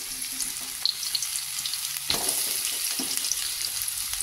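Sliced sponge gourd hits a hot pan of sautéed shallots and garlic and sizzles loudly, with scattered stirring scrapes and clinks over the steady frying crackle and no speech.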